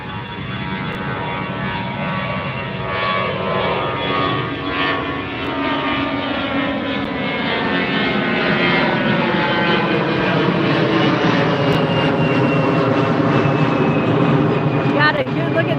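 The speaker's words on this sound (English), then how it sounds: "Next stop is Delta Airlines Flight 1287 headed to Houston." Delta Airlines jet on Flight 1287 to Houston passing low overhead near a beach at LAX, a loud sustained engine roar whose pitch slides downward as it goes by, with talk over it.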